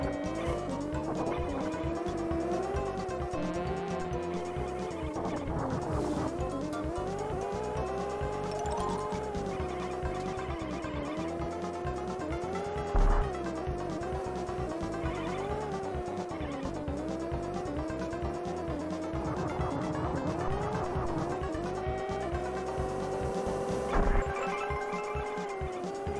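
Car tires squeal and skid in a video game, long wavering whines over a revving engine throughout, with two brief thumps of impact, loud and continuous with no talk.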